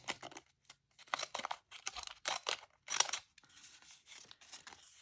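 Scissors snip through cheesecloth scraps in a quick run of sharp, close crunchy cuts with short pauses between them, then softer rustling of the fabric.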